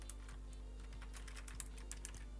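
Typing on a computer keyboard: a quick, irregular run of light clicking keystrokes, close and fairly quiet over a steady low hum, with no talking.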